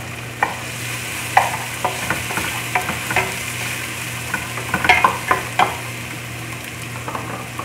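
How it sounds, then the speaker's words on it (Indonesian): Onion sautéing in oil in a very hot pot, a soft steady sizzle with frequent spoon-on-pot clinks and stirring scrapes, close and alone with no talk. "Kita tumis terlebih dahulu bawang."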